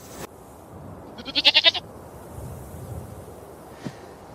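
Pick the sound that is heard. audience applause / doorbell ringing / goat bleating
goat bleating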